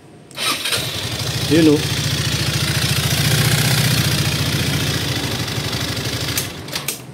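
A Motorstar Easyride 150fi motorcycle with a head cover oil leak starts up and settles into a close, steady, evenly pulsing idle, with a brief voice over the engine.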